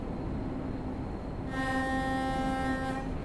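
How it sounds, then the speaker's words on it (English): A train horn in the Train Sim World 6 game on the Liberec to Stará Paka line, a loud sustained multi-tone blast that starts halfway through over a steady rolling rumble. "you do need to be careful when you're honking for crossings and stations and corners"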